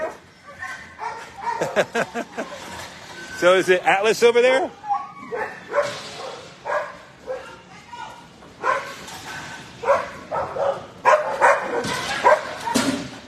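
Dogs give short yips, whimpers and barks in scattered bursts, the liveliest flurry in the middle, while people talk over them almost the whole time.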